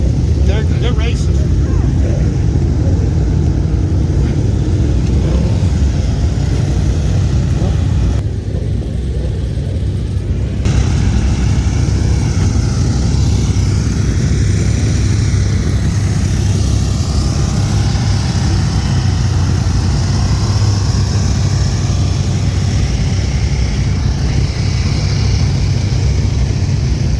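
Vintage motorcycles racing at a national event, engines droning and revving continuously with a steady rumble, fairly near, while people talk over the top.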